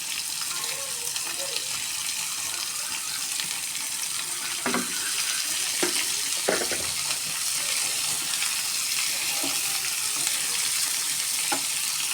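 Green chilies and sliced onions sauté in a pan, a steady broadband sizzle running throughout with a few sharp clicks of a spatula scraping and stirring, close and fairly loud, no talk.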